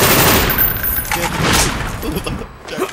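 Rapid bursts of automatic gunfire and single shots in the Call of Duty Black Ops multiplayer match on the Hanoi map, loud and dense throughout, with overlapping reports and brief voice sounds underneath.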